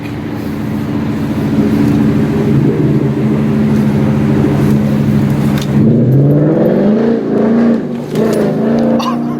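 A 2016 Mustang GT with a Barton Hybrid 3 shifter driving, its V8 engine note droning steadily then dropping and rising again as gears change partway through, loud and close from inside the car.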